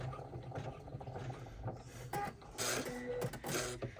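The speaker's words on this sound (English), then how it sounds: "Wait for it to, the thread cutter to finish." Embroidery machine thread cutter running at the end of a hoop embroidery job, a short mechanical whirring and clicking near at hand, with some faint background noise.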